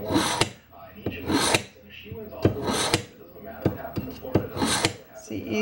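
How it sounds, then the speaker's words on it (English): A kitchen knife drawn across a sharpener makes a string of short, raspy metal strokes in an uneven rhythm, close and fairly loud, with small clinks between the passes and no voices. "Gonna sharpen the knife."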